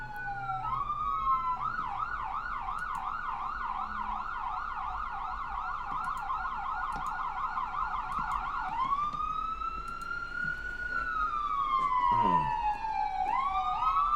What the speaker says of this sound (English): Is that an ambulance? Yes, that's an ambulance.